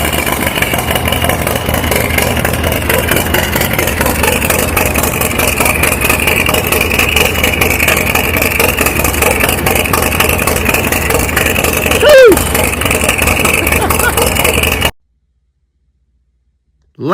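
A Harley-Davidson Street Glide with a Stage 4 engine build idles close by in a steady, even rumble for about fifteen seconds, with a brief louder blip near the end before it cuts to silence.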